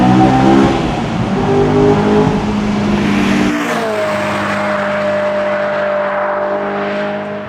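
Honda S2000 sports car engine revving hard inside a tunnel, a loud high-pitched wail that drops to a steady, echoing cruise drone halfway through, with no talking.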